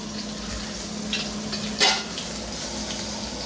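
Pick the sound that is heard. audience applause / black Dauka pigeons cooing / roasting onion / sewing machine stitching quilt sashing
roasting onion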